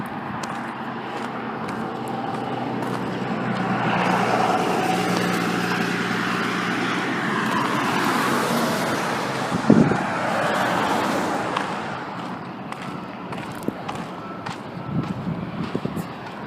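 Steady traffic roars past on Interstate 5 near Castle Rock, Washington, a continuous broad wash of passing cars and engine noise heard from a pedestrian crossing nearby, with wind buffeting the microphone and a brief thump partway through.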